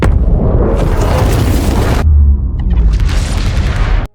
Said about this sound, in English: The nuclear bomb explodes